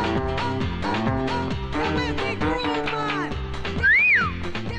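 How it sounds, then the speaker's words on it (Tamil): A person whistles a short rising-and-falling tone near the end, cutting loudly through a dense backdrop of film music and voices in a Tamil movie scene set in an exam hall. "விசில் அடிக்கிற படுவா"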